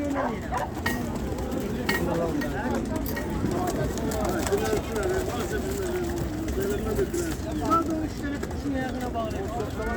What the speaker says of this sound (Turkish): Hər cürə kuşlar var burada.